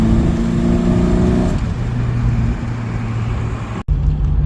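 A Datsun roadster engine with an E85 fuel-injection conversion idles steadily and loudly up close, slightly high, its low drone shifting pitch partway through, with a brief dropout near the end.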